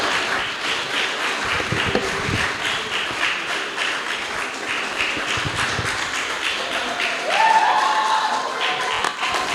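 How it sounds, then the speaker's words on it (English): Audience at a design community mixer claps for the creative director, a steady broad wash of applause running throughout with a brighter burst near the end. "Secondly, let's clap again, this time for Joseph,"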